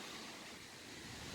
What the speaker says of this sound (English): I couldn't hear anything because of the wind.